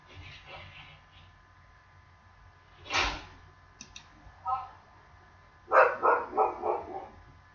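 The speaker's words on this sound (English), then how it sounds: "Sorry if you can hear my neighbor's dog." A neighbor's dog barks in the distance, a single yelp followed later by a quick series of four or five barks, faint and muffled behind indoor hum and a few clicks.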